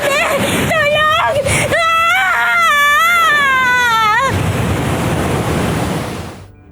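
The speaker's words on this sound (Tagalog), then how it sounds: "Higupin tayo ng napakalakas na alon!" Loud, dramatized crashing of strong ocean waves, a continuous roaring surf wash that fades toward the end, heard beneath frantic crying and shouting voices in a dramatized horror story.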